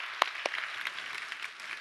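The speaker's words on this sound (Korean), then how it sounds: "우리 박수로 한번 감사합시다." Brief, faint applause from a church congregation at a Friday worship gathering, a few distinct claps at the start and then a soft, thin patter of hands with no voices.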